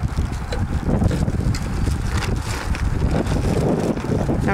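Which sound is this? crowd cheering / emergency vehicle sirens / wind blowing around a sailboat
wind blowing around a sailboat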